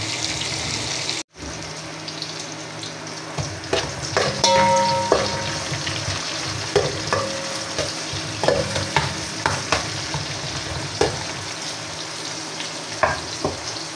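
Fresh anchovies sauté in a pan before broth is added, a steady close sizzle with scattered clinks and scrapes of stirring throughout, no voices.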